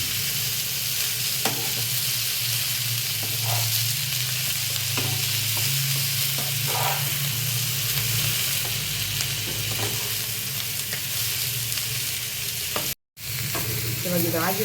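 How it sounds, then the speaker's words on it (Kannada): Ingredients with a pinch of turmeric roast in a pan for avarekalu sambar, giving a steady close sizzle with occasional stirring scrapes and a brief break near the end. "ಇದೆಲ್ಲನೂ ಸೇರಿಸಿ ಸ್ವಲ್ಪ ಒಂದು 5 ನಿಮಿಷ ಇದನ್ನು ಹುರ್ಕೊಂಡ್ಬಿಡೋಣ."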